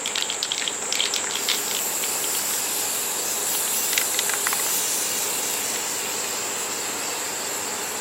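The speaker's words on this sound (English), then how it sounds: "green spray paint and a white spray paint because I'm going to try to touch this up a little bit" Green and white spray paint hisses steadily from an aerosol can during a touch-up on a small side entrance, a continuous close spray with a few brief bursts at the start.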